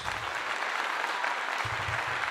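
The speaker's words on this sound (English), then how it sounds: "Round of applause." Steady, dense applause from an audience, a continuous wash of many hands clapping at an even level with no pauses.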